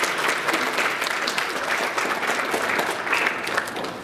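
Seminar attendees at a talk on negligent crime break into strong, continuous applause for the lecturer, a dense, even roll of clapping from a nearby crowd filling the room.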